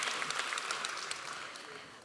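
Sustained applause from a graduation ceremony audience for a medicine and health sciences graduate, a steady, fairly distant wash of clapping lasting about two seconds and fading slightly at the end.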